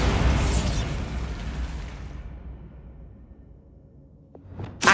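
A Bombarda blasting spell from Hogwarts Legacy bursts in a loud boom that rolls off into a fading rumble, followed by a faint pop and a sharp swish at the end.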